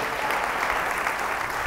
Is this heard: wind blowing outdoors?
no